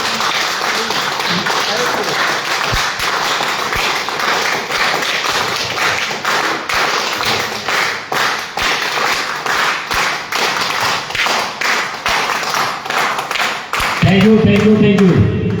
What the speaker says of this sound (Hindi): क्लैपिंग कैसे होनी चाहिए?